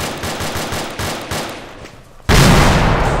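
Rapid automatic gunfire aimed at a Hind helicopter in a military shooter, a close, fast, rhythmic burst that fades and then gives way to a sudden loud, dense roar of firing.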